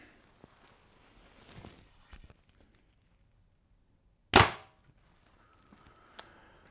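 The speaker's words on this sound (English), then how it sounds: "we're going to be shooting this bow with a 400 grain arrow" A Bear Resurgence compound bow set at 70 pounds and a 29-inch draw fires a 400 grain arrow, giving a single sharp, loud release snap with a short ringing decay, then a faint click afterward in quiet surroundings.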